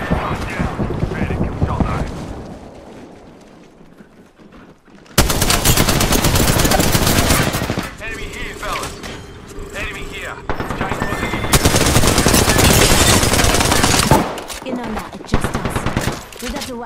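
Gunfire in Apex Legends comes in loud, sustained bursts of rapid automatic shots that clatter close by with brief lulls between them. Game sounds and some speech are mixed in.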